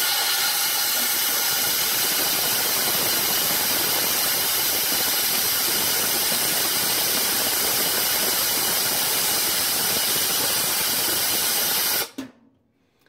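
A washing machine in a cabin being winterized starts its cycle on hot and cold, giving a loud, steady rushing hiss of water and motor that runs unbroken before cutting off abruptly near the end.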